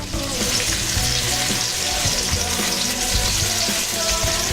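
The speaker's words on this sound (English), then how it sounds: "Now you just want a nice sear on the bottom." Food sears in a hot frying pan, giving a dense, steady, close sizzle with faint crackles throughout and no talking.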